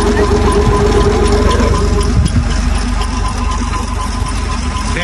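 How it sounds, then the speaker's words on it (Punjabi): A tractor engine idles loudly and close by near village wheat fields, giving a steady, unbroken low rumble with a fast mechanical chatter for the whole stretch. "ਫਿਰ ਟਰੈਕਟਰ ਬੰਦ ਕਰਕੇ ਜਾਣਾ ਪੈਣਾ"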